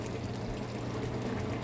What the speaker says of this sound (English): Add in a quarter cup of my pasta water to make it a little watery.